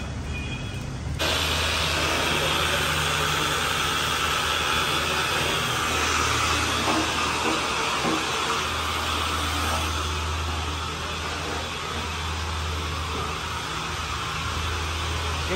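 A Honda N-One kei car engine runs in its freshly serviced engine bay, giving a steady, loud mechanical hum with a low droning tone and broad whirring noise that starts abruptly and holds for the whole stretch, with no talking.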